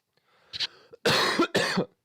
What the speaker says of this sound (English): forgive the cough